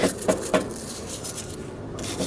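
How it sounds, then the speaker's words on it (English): A wire brush scrubs corrosion left by leaking coolant off a BMW 335i oil filter housing, giving a few sharp rasping strokes at first and then a softer, steady scratching close by. "I'm using this wire brush there's so much corrosion from the coolant getting in here"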